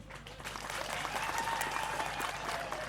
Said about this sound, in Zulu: Ngicela simamukele ngelikhulu ihlombe kanye nesekala lakhe ngokungangabazi.